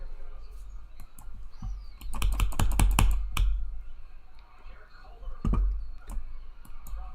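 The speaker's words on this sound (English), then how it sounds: "I'm clicking." Rapid bursts of computer mouse clicks during a live play-by-play scoreboard stream, a dense cluster of loud clicks in the middle and a few more later, with brief talk around them.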